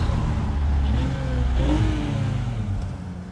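A race car accelerates hard in third gear around Sonoma Raceway, its engine note rising in a loud, close, steady pull that swells and sweeps upward, with no talking.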